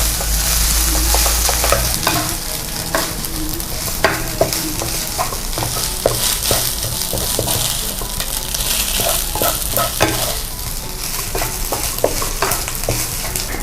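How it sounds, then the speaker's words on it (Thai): Rice and shrimp paste stir-frying in a hot pan, a steady loud sizzle broken by repeated scraping and tossing strokes of a spatula, with no talking. "ข้าวลงไปผัดเลย ใส่กะปิมากเยอะขนาดไหนก็ขึ้นอยู่กับจำนวนข้าวที่เรา ลงไปผัดอะค่ะ"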